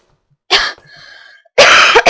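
A person coughs twice in a harsh, loud burst, followed after a pause by a longer heavy coughing fit, with faint breathy noise between, while playing the horror game Slender.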